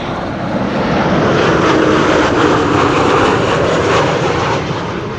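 An airplane lands at Amsterdam Schiphol Airport on runway 06, the Kaagbaan, in windy conditions, its engines a loud, steady roar holding throughout with no voices.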